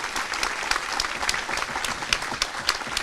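An audience at a live concert applauds steadily and fairly loudly, a dense, even wash of clapping throughout.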